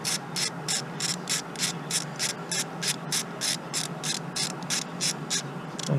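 Ratchet wrench with extension and 10 mm socket working a spark plug loose on a 2018 Hyundai Elantra Sport, a steady run of quick, evenly spaced close clicks with no talking.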